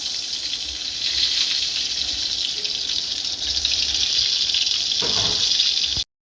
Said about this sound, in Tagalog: At pagkatapos lagyan ng mainit na tubig ay ilalagay ang bigas